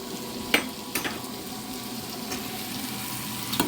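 Broccoli florets and stems cook down in a pan with a steady, moderate sizzle, punctuated by a few sharp utensil clicks and scrapes, with no voices.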